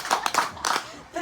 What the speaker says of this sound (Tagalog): bigyan natin si Trixie ng tatlong palakpak.